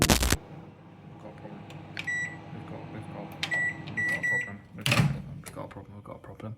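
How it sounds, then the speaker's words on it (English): A microwave oven hums steadily in a kitchen, with a door thud at the start and a few electronic beeps scattered through. "Then of course time to chuck it in the microwave"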